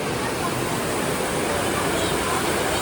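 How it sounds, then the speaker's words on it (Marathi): Plentiful water rushes and pours at a temple site in Pune, a loud, steady, close broadband roar that fills the whole stretch without pause. "खूप पाणी आहे."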